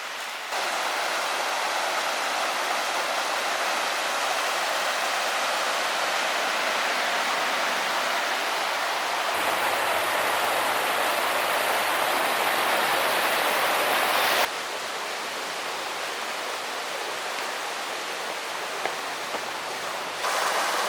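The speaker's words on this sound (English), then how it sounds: "I want to check out the water. I can hear it, but it's through these trees over here." A mountain stream rushing beyond the trees, a loud, steady broadband wash of flowing water that holds constant throughout with no voices.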